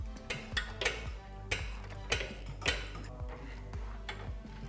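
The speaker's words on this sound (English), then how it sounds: "Then we get the lower one tightened up with an 18mm socket and an 18mm ratchet." An 18mm ratchet on an 18mm socket tightens the lower shock bolt on a Jeep Gladiator with quick, rhythmic metallic clicks, a dozen or so in steady bursts, close and fairly quiet with no talk.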